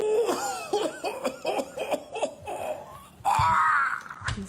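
A man coughs repeatedly in a quick, rhythmic run of hacking bursts, followed by a higher strained, wheezy sound and a final cough, close and clear with no speech.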